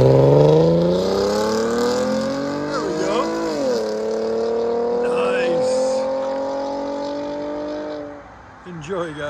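Chevy Camaro RS V6 3.6L with a full MBRP S7020 cat-back exhaust revving, rising in pitch, briefly dipping and rising again, then holding a steady drone before easing off; a voice talks over it.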